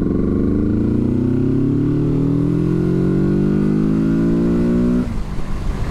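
A Kawasaki Z650 RS motorcycle pulls a steady roll-on in third gear from about 20 mph, its engine note climbing smoothly and loudly for five seconds before the throttle closes and the sound drops back.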